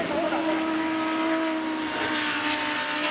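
BMW and Audi GT race cars roar past at Fuji Speedway in a sustained, loud engine drone, with a race commentator talking over it.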